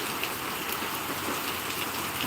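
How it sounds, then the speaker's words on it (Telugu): Heavy rain pours down steadily in Mulkanur in a dense, hissing wash that stays constant from start to finish. "ఇంత భారీ వర్షం పడలేదు"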